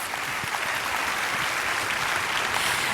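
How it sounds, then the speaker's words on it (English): A pageant audience fills a hall with loud, continuous applause, a dense wash of clapping that holds steady throughout. "give them a huge round of applause"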